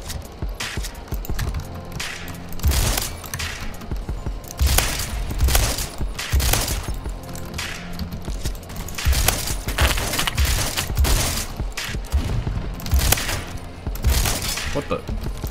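Repeated shotgun blasts in the video game Phantom Forces, loud and close, fired in irregular bursts across the whole stretch amid game effects, with a voice talking at times.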